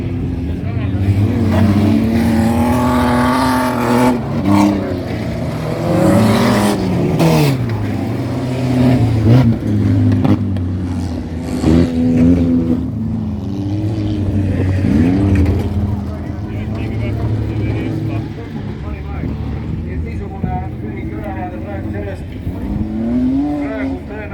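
Rally cars on a rally stage at the Libatse banger rally, with engines revving loudly, gear shifts, and cars roaring past one after another under continuous commentary.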